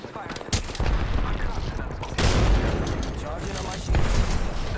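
Video game gunfire rattles in dense, loud bursts of shots and booms that come in surges over a continuous battle din.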